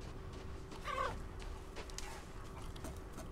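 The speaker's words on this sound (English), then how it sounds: "I could kill those chickens for their poultry" Chickens cluck in the Resident Evil Village video game, a short bright cluck standing out near the start over a steady murky ambient background, with a few faint scattered sounds afterward.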